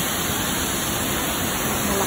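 A pressure washer blasts water onto a car during a winter car wash, producing a steady, loud, even hiss of spray that runs unbroken throughout, with no voices.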